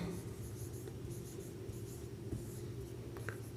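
Pen scratching on paper while writing out a class 10 maths solution by hand, a faint, quiet series of short strokes over a low background hum.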